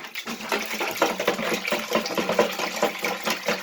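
Water pours steadily into a container of sugar water nearby, a continuous splashing gurgle that fluctuates slightly in loudness throughout.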